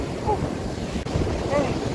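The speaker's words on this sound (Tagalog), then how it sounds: "lakas ng alon" Strong ocean waves on a beach just after a storm, a continuous loud roar of surf with heavy wind buffeting the microphone throughout, no break in the rushing noise.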